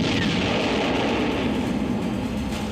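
Missiles launched from a warship during a US–Philippines military exercise: a loud, sustained roaring rush with a rising whoosh near the start over constant low rumble, no speech.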